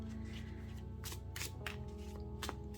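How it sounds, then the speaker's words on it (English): Thin cardstock tarot cards being shuffled, a soft close riffle with several crisp bursts of card flicks over a quiet background. "It's actually an easy shuffle"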